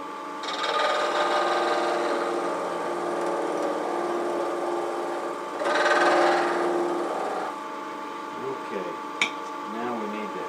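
Steady rasping of sandpaper against an apple-shaped wooden box spinning on a lathe, a continuous whirring hum with a louder surge midway, then brief talk.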